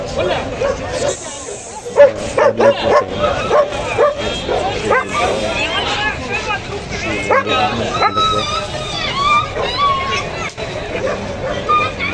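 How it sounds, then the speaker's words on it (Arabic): Several dogs bark and yip at a dog market amid crowd babble and voices, with a busy, lively background throughout. "دي بقى الكلاب يا جماعه"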